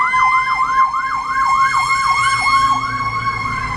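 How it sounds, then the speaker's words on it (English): A fire engine siren wails in a steady, repeating up-and-down sweep about every third of a second, loud and close, on a breezy day in Miami Beach with no talking. "Not an easy feat for that fire engine."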